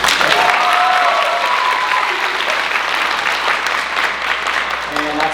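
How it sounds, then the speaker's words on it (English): A college crowd at a Mr. Juniata pageant show applauds loudly and continuously, with cheers and whoops in the dense clapping that eases slightly toward the end. "Round of applause, guys, please."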